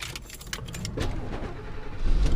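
A Coachman motorhome's key slides into the ignition with a light metallic jingle, then the engine cranks and catches, its low rumble building near the end.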